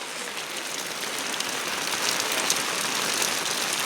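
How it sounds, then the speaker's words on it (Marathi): Steady, heavy monsoon rain pours down in Rajapur in the Konkan, a dense and continuous hiss of drops on surfaces with no voices. "पाऊस चालू झाला आहे। थम थम थम थम थम।"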